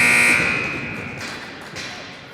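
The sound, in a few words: ice hockey game buzzer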